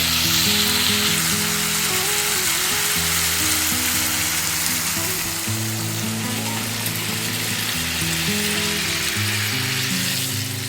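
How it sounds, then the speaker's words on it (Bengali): Water poured into a pan of frying fish curry made with bata fish, potato, ridge gourd and pointed gourd, giving a loud, continuous close sizzle that holds steady throughout, with faint music underneath. "আমি এবার ওটা জল ঢেলে দেবো"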